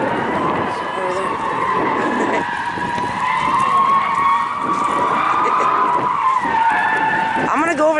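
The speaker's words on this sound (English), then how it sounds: "film for you guys where they're drifting, but it's gonna get loud" Cars drifting at a classic car auction event, with loud continuous tyre skidding and engine noise filling the whole stretch, a sharper squeal near the end, and voices in the background.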